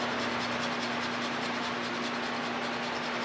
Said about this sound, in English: So I'm going to grate probably a half a teaspoon of nutmeg in it.